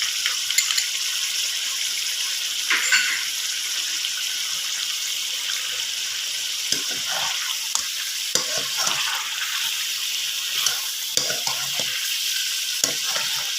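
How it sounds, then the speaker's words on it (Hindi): Chicken frying with spices and turmeric in a pan, a steady loud sizzle throughout with occasional scraping stirs and clinks of a utensil, close up, no talk. "चिकन फ्राई हो रहा है साथ के साथ"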